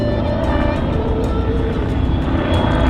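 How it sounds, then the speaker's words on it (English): A fixed-wing aerobatic aircraft performing at an airshow, its engine a loud continuous drone and roar, close and steady across the whole stretch. "That is a straight-up aerobatic maneuver in a fixed-wing aircraft"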